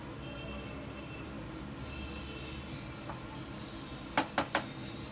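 Chicken malai gravy simmers on low heat in a pan, giving a soft steady bubbling hiss at low volume, with a few sharp clinks near the end.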